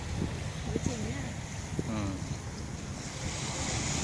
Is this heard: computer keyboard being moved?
no